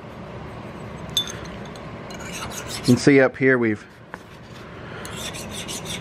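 A file rasps by hand across a muzzleloader butt plate in close, continuous strokes that run through the clip, with someone speaking briefly over the filing midway.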